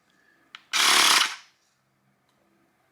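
A Xiaomi portable air compressor switches on to inflate a car tire, a loud, harsh buzzing burst lasting under a second after a small click, close by, then quiet.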